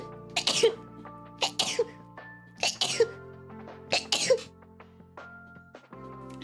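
A person sneezing again and again, about six sharp bursts at a steady pace close to the mic, with quiet sniffles and low background tones between them and no speech.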